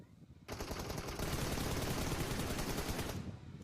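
Rapid automatic gunfire rattles in a shooting video game, one dense continuous burst of about three seconds, fairly faint.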